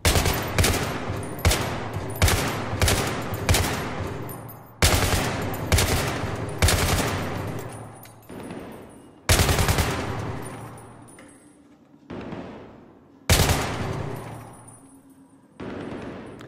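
Bursts of automatic rifle fire crack out in Battlefield 3, a dozen or so sharp, loud shots and short volleys spaced irregularly, each trailing off into echoing decay with quieter gaps between.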